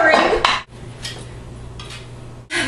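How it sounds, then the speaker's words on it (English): Cookie dough is stirred in a bowl, with clattering scrapes and knocks of a utensil against the dish in short bursts separated by quieter pauses, close by. "Stir it around. Just keep stirring."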